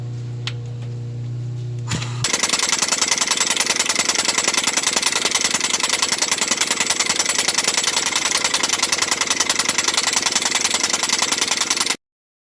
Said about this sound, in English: It took a long time with that impact air ratchet